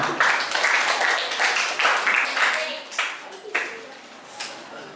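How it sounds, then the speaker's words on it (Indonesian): A group in a classroom claps, starting as dense applause that thins into scattered claps and fades out over a few seconds. "Tepuk tangan untuk kita semua"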